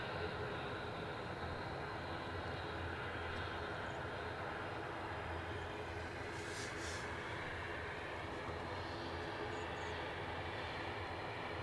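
An ATR turboprop at Edinburgh Airport gives off a continuous, even engine roar and whine from some distance, with no other distinct sounds over it.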